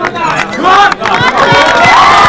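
An athletics stadium crowd roars for a jumper, with loud, close cheering and rising whoops and shouts that swell in waves over a continuous babble.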